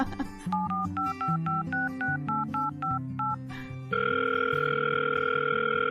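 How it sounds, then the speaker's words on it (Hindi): Rapid beeping touch-tone keypad presses dial a number, a quick series of short tones followed by a steady ringback tone. "प्लीज मिलाइए ना फोन।"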